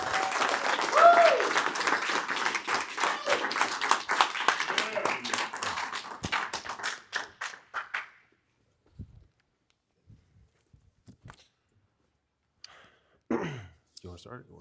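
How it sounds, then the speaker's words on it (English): Warm applause from a bootcamp audience welcoming speakers to the stage, a dense burst of clapping that fades out after about eight seconds, followed by scattered claps, shuffling and a brief voice. "Give them a warm round of applause."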